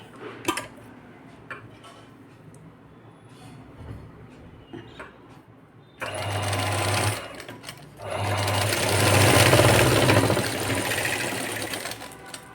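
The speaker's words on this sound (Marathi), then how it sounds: "आणि व्यवस्थित शिवून घ्यायची" A sewing machine stitching a boat neck blouse, starting after a few quiet handling clicks and then running in two loud, steady whirring bursts with a short break between them.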